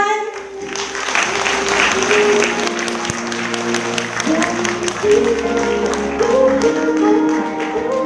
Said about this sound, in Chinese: 让我们用最热烈的掌声欢迎品真